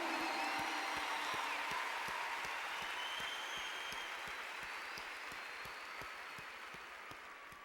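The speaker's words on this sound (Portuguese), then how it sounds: "Dá uma salva de palmas para o Senhor Jesus." An audience at a large outdoor church gathering in Ibirapuera applauds steadily, a broad sustained roar of clapping that slowly fades, with a regular rhythmic beat underneath.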